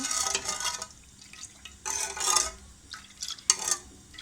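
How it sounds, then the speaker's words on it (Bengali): Sugar being stirred into milk in a bowl for bread pudding, a series of scraping, swishing strokes from a spoon against the sides, close and clear, coming in bursts with short pauses between. "এখন দুধের সাথে ভালোভাবে মিশিয়ে নেব।"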